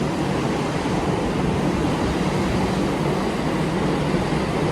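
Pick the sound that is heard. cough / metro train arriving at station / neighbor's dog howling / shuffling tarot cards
metro train arriving at station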